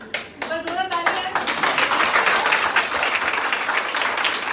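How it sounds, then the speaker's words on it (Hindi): Audience clapping at a women's day event sweeps in dense and steady after a voice briefly speaks at the start, then holds as full, even applause to the end. "बस जोरदार तालियां।"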